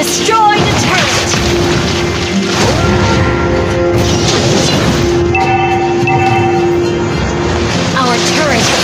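Explosive crash from a destroyed turret in the mobile battle game Mobile Legends, loud and dense, layered over steady game music and electronic effects, with an announcer-style voice speaking.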